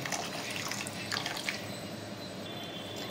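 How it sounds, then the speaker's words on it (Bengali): Hot water poured into a simmering hilsa fish malai curry makes a short, continuous liquid splash and bubbling gurgle at moderate level, lasting about three seconds. "এরপর এর মধ্যে দিয়ে দেবো স্বাদ পরিমাণ মতো গরম জল"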